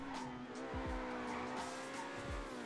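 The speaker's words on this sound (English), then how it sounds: "A lot of suspension scuff. You can hear it on every bump that is just going" A car in GTA NoPixel driving stiffly over bumps, its suspension scuffing: steady engine and tire roar with two or three brief low thumps as the wheels hit bumps, no talk.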